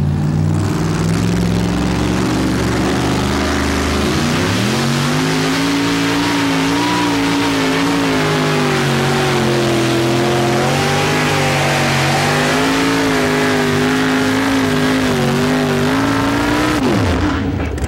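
A 2WD pulling truck's engine screams at a 1987 truck pull in Fort Wayne, Indiana, holding a loud, steady high-rev roar that climbs in pitch, wavers as the load shifts, and cuts off abruptly near the end.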